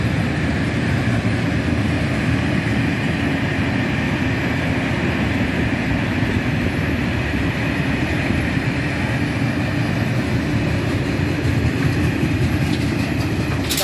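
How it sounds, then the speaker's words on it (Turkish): A train heading toward Karabük rolls past as a steady, broadband rumble that holds evenly throughout, close and continuous with no talk over it. "Karabük yönüne gidiyor arkadaşlar tren."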